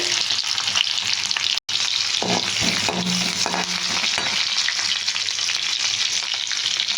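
Chopped onion frying in hot mustard oil with mustard seeds, a loud, continuous close sizzle with a few soft stirring knocks and one very brief cutout.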